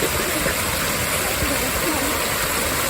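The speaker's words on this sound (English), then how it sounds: "Another beautiful water fountain." A water fountain in a Zaragoza street splashes in a continuous, close rushing spray, a steady wash of falling water with faint traffic rumble underneath and a voice speaking briefly.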